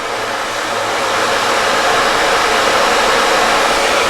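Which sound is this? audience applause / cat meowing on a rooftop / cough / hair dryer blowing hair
hair dryer blowing hair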